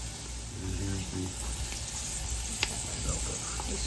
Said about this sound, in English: Okay, it says to add the onions. The onion, the pepper, and the celery.